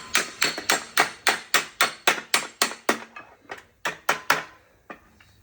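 Hammer blows ring out sharply in a steady rhythm, about a dozen close, metallic strikes followed by a few slower, irregular hits, during restoration work on a 1969 Holden HT.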